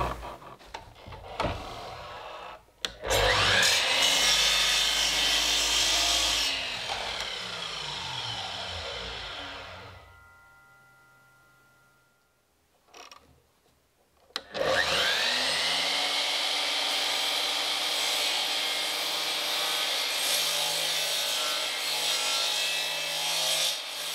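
Hand saw cutting wood for a handmade hobbit window in an off-grid earthbag workshop, close rasping strokes in a run, a pause with faint knocks, then sawing resumes steady and loud to the end.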